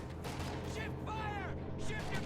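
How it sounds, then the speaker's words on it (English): A .50 cal machine gun in a video game fires in bursts, with a voice talking over it. "50 cal in this fighting position, firing on those Pyos."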